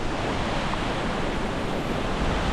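Wahclella Falls in the Columbia River Gorge pours in a dense, continuous roar of falling water and mist, loud and steady with no pauses.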